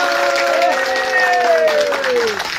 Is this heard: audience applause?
yes